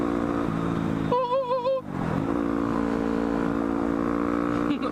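A motorcycle braking on a bridge gives a short, wavering high-pitched squeal that cuts over the steady engine drone, then the engine note dips and picks back up.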